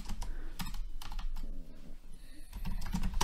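A password is entered on a computer keyboard in a rapid run of close, crisp key clicks. The pace is uneven, with a brief lull midway before the tapping picks up again.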